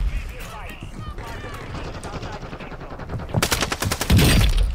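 Rapid automatic gunfire in Warzone 2 Resurgence builds into loud close bursts toward the end, with excited shouting over it.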